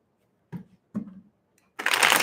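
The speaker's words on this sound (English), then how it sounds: "I hear 3 more shuffles for Libra" Tarot cards shuffled in three quick bursts, two short riffles followed by a louder, longer ruffling shuffle, close up with no talking.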